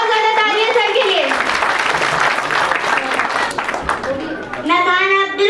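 Loud, dense applause fills a hall at a school annual function with a patriotic freedom-fighter role play, with voices heard just before and after the clapping.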